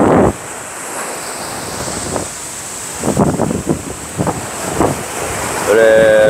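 Surf breaking on an East Sea beach in Korea, a steady wash with wind buffeting the microphone; several louder surges of breaking water swell through the middle, and a faint voice sounds briefly near the end.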